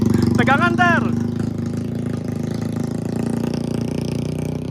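A motorcycle carrying a rider with a local driver down a mountain trail, its engine a steady, buzzing drone that stays loud and close throughout, with a brief voice sounding over it near the start.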